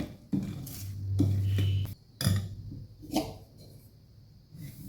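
A utensil scrapes and clinks against a pot in several separate strokes, mixing fermented dosa batter, with short pauses between the stirring motions and no voices.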